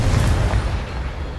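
A Confringo spell explosion in the video game Hogwarts Legacy, one loud, deep, rumbling boom that fades slowly over about a second.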